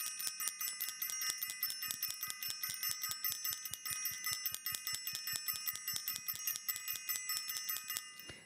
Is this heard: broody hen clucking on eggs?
no